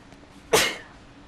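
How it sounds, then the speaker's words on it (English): A single sharp human sneeze bursts out at close range, loud and sudden against a quiet background, then quickly trails off. "Need to sneeze again though."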